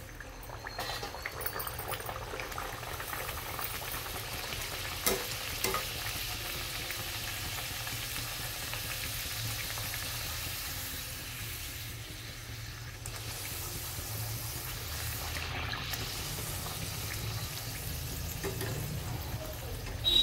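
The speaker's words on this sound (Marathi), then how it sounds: "तर आता आपण पुरी तळून घेऊ. चांगलं तेल गरम केलेलं आहे मी." Spicy wheat and lentil flour puris frying in hot oil, a steady soft bubbling sizzle that runs continuously at low level, with no talk.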